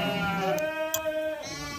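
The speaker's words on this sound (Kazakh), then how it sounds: "Романовский қойлар." Romanov sheep on a farm bleat in a clear, nasal, wavering call that carries through most of the moment, with faint farmyard noise around it.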